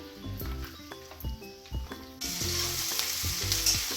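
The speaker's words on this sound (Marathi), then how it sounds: "आता आपण ही कांदा भाजून घेऊया." Onion and grated coconut roasting in a hot pan, with steady frying sizzle and repeated stirring clinks of a spatula against the metal; the sizzle grows louder and hissier partway through.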